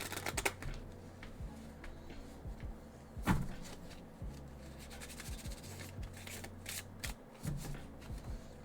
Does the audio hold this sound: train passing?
no